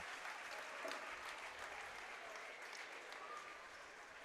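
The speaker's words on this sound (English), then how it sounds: "Big cheer from the Viking faithful" Faint, steady applause and cheering from home fans at a North Dakota high school boys basketball game, Devils Lake against Kindred, heard from a distance as a free throw is set up.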